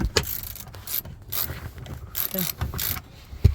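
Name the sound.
ratchet removing long screw from Chevy Avalanche rear seat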